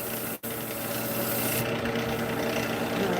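A Scotch-Brite pad scrubs in a continuous dry rasping rub, close and fairly steady, broken by a brief pause near the start.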